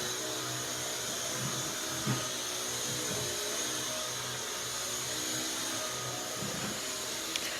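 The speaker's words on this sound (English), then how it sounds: "I'm glad Stanley's taking the initiative to vacuum" A vacuum cleaner runs steadily in another room, a continuous broad drone that stays muffled and fairly constant in level, with faint bumps as the machine moves.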